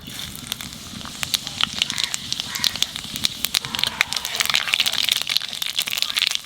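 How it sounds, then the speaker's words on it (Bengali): Panch phoron whole spices hit hot oil in a pan of pui shak and vegetables, crackling and popping in a dense, continuous sizzle with sharp snaps scattered throughout. "তেলের উপর দিয়ে দেবো পাঁচফোড়ন,"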